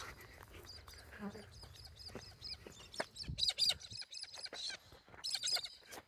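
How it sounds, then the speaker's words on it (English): Budgies and parrots at Caversham Wildlife Park in Perth, Western Australia, chirping in a busy hot outdoor aviary, with bright repeated tweets and squawks mixed with voices talking nearby. "Budgies flying everywhere, parrots."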